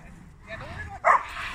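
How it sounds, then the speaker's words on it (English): Huskies playing with other dogs at a park let out a few short yips and a sharper bark, close by over a quiet outdoor background. "Polaris and Blazzen are playing with other dogs"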